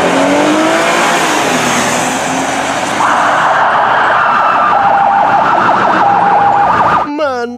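A toy police car siren wails loudly and continuously up close, its pitch shifting partway through, before cutting off into a short burst of clicking at the end.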